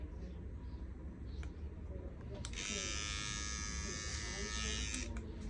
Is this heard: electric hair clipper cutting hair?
yes